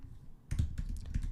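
Quiet keyboard typing: after a half-second lull, a soft, steady stretch of light key taps plays against faint room noise, with no talking.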